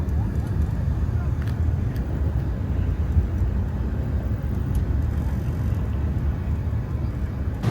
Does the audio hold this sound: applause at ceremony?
no